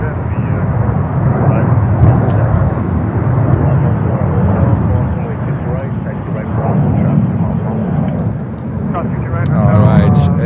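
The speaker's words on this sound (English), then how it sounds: "Etihad 350-1000 back to Abu Dhabi" Broad low roar of an Etihad Airbus A350-1000 jet airliner at JFK airport, rising and falling across the clip, muffled and wind-buffeted, heard loud and near with some talk in the background.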